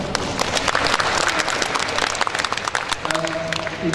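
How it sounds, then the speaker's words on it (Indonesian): Applause from an audience at a corporate presentation by a Toyota Indonesia director, with broad clapping and crowd noise throughout and a voice starting to speak over it toward the end. "Tepuk tangan"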